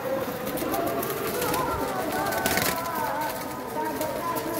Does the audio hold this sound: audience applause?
no